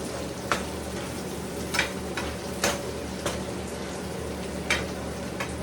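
Bean sprouts and fried tofu cooking in a pan, giving a continuous loud sizzle broken by several sharp clicks and scrapes of a utensil, with no voices over it.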